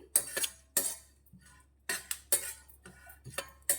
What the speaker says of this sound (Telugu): ఇవి చిటపట అనేంత వరకు వీటిని జాగ్రత్తగా ఫ్రై చేసుకోవాలి